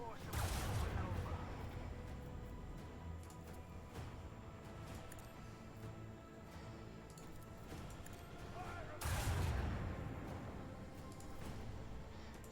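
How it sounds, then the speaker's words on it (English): Torpedoes launch in Warhammer 40K Rogue Trader, heard as two heavy, rumbling bursts about eight seconds apart over a continuous bed of game music and effects. "Pop out some more torpedoes."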